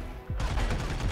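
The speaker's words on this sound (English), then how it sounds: "that's a whole clip of the strongest gun in the game" The strongest gun in the co-op shooter Army of Two fires a rapid burst. Loud, tightly spaced shots play in quick succession after a brief lull.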